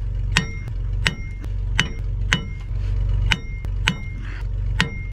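Sharp metallic strikes of a hammer on a car part in a video game ring out at an uneven rhythm, about eight hits, over a constant low droning hum.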